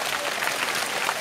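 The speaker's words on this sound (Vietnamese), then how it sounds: "Một tràng pháo tay cho sự quyết tâm quay lại." Applause from a school audience at a motivational life-skills talk, a steady wash of clapping filling the whole short moment at moderate loudness with no voices over it.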